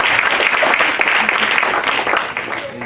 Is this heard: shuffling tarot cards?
no